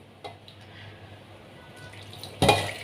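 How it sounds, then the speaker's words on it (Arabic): Two cups of water poured into a cooking pot of mallow stew (khubeiza) with garlic, heard as a short, close splash near the end after a quiet kitchen stretch. "وهننزل بميه عليها كوبايتين ميه"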